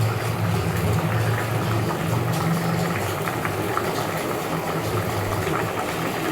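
Tilapia fish pieces go into a pan of cooked papaya and spices, and a steady, close bubbling sizzle continues throughout without pause.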